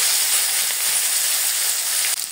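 Eggplant frying in hot oil with panch phoron spices for a Bengali fish curry, a loud, dense, continuous sizzle and hiss close by, steady throughout with a brief dip just before the end, no talking.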